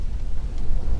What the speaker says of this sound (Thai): เสียงฟ้าผ่าดังสนั่น